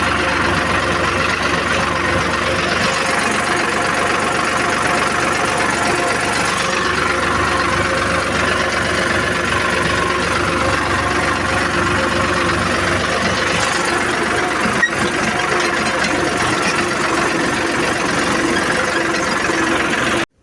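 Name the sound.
tractor engine idling with attached scraper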